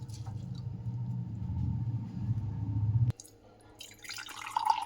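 Water is poured into rice in a pot while cooking tomato rice bath: a soft, steady pour for about three seconds, then it stops, leaving faint drips and light clinks, with no voices.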